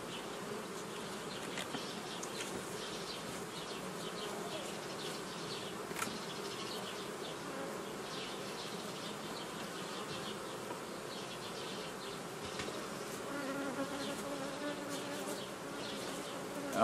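Honeybees hum around brood frames at an apiary during hive reorganization, a continuous, fairly faint buzzing swarm with occasional louder individual passes close by and no talking.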